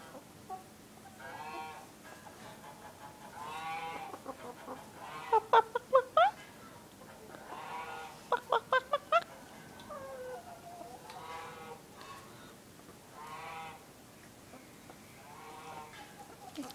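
Chickens in a barn cluck and call in a string of nearby squawks and trilling bursts, mixed with softer murmuring clucks between them.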